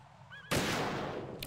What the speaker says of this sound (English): I nearly shot that bird again.